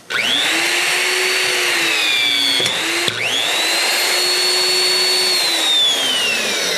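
Hitachi VB16Y electric rebar cutter running up with a rising motor whine, pausing briefly with a sharp click, then spinning up again and whirring steadily, loud and close.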